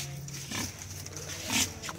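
A captive 21 kg wild boar in Vietnam gives a few low grunts, close by over a steady hum of background noise, with one louder grunt near the end.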